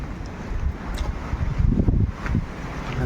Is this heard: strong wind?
yes